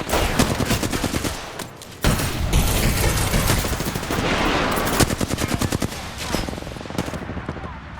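Rapid automatic gunfire in the Apex Legends video game on PS4, dense close bursts of shots and fusillades running almost continuously, with brief pauses and overlapping impacts.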